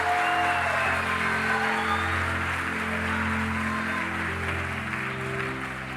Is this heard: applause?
yes